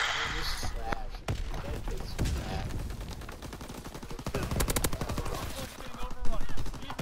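Rapid bursts of gunfire in a WWII shooter game, with shotgun blasts and repeated shots crackling loudly throughout amid game effects and voice chat.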